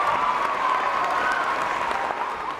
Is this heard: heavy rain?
no